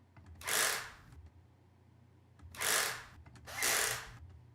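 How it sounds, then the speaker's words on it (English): Three separate bursts of a power drill whirring, each rising and falling, with short quiet gaps between them. "These were more like singular power tool drill sounds."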